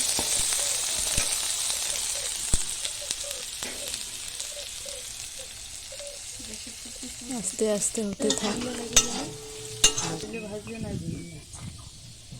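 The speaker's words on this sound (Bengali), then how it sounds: "তেল দিয়ে দিলাম। আবার ভাজতে হবে। কিছুক্ষণ ধরে আবার ভাজবো।" Corn fries in oil on a gas stove with a steady sizzle and intermittent stirring scrapes and clatter, while a voice speaks briefly over the cooking.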